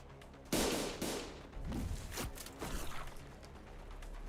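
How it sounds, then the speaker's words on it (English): An explosion in the video game Limbus Company: a sharp, loud broadband blast that dismembers a character, followed by several smaller bursts and a crackling, wet-sounding tail that fades over a few seconds. "A loud explosion left Don Quixote dismembered where she stood."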